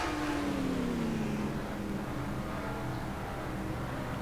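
Onboard engine note of car number 9 in a sim-racing stock car race at Martinsville, a steady mid-pitched drone whose tone sweeps down as the car slows, continuous throughout.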